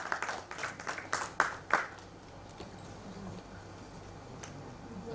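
Audience applause at an event, a short burst of scattered clapping over roughly the first two seconds that fades into quiet room murmur. The clapping sounds faint and fairly distant.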